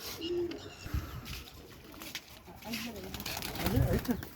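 A pigeon coos softly in low, rounded bursts, with people talking nearby over a light outdoor background.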